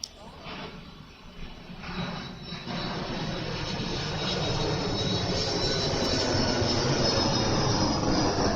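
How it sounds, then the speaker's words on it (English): An airplane passes overhead at night, its engine roar building gradually from a fainter rumble to a loud, steady wash that fills the clip, with no talking. "Last plane."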